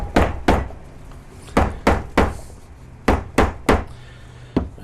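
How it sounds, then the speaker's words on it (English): A hammer closes the cord holes in the leather-covered boards of a hand-bound book, landing about ten sharp, close taps in quick pairs and small clusters with short quiet gaps between. "And we close the holes up with the hammer."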